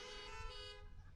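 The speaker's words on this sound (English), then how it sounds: "if you'd honk at the person next to you." Car horns toot together at a drive-in church service, a brief faint blare of overlapping tones lasting about a second.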